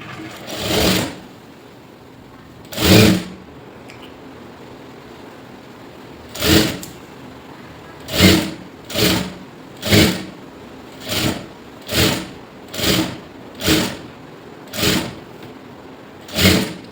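A sewing machine stitches a quarter-inch seam along a blouse lining in a series of short, close, mechanical whirring bursts, spaced widely at first and then coming in a quick, steady run with no voices.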